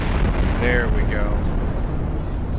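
Explosions tear through a building in the space strategy game Sins of a Solar Empire, a loud sustained roaring blast with crackling bursts over a constant rumble.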